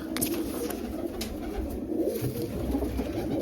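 Pigeons coo close by in a loft of kept breeding pigeons, soft low throaty calls repeating continuously with no talk.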